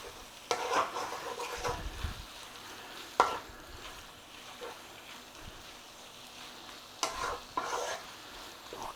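Chicken lentil curry with coconut milk stirred in a pot, giving steady close sizzling and frying hiss with scraping stir strokes at intervals, no talking.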